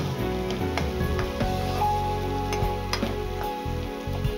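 Cashews, peas and halved green chillies fry in a hot tempering oil for chow chow bath, a loud, steady sizzle close up with soft stirring scrapes and bubbling.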